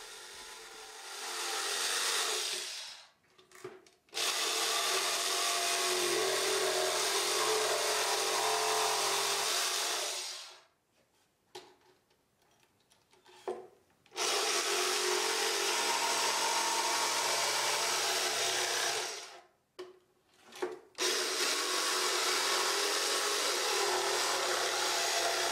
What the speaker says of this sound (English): With the jigsaw, I cut from hole to hole along the lines that I'd marked onto the top.